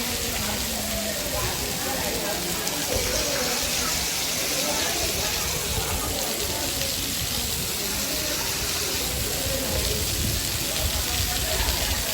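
Dense, steady rain hisses continuously for the whole stretch, loud and close on a synthetic sports ground, with muffled voices buried underneath.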